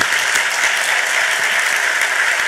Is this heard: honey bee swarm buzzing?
no